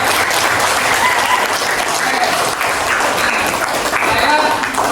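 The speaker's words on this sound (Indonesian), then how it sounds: "Kita kasih tepuk tangan lagi yuk." Classroom applause from students clapping steadily and loudly for about five seconds, a dense continuous patter that fills the whole span with no break.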